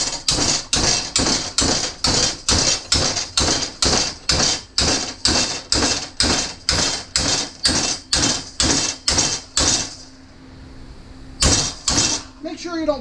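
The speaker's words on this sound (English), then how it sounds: "I use a hammer." A hammer strikes a bench seat cupholder into place about twenty times in an even, quick rhythm, each blow loud and close, followed by a pause and a final pair of hits.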